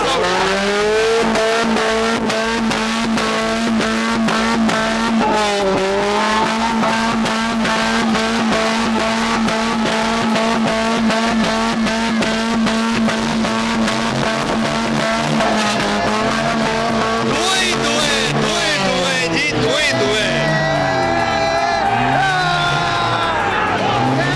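Car revving hard and skidding through a smoky burnout at the 2021 Islamabad auto show, a loud, continuous engine roar with tire squeal and rising pitch sweeps, with crowd voices and talk mixed throughout.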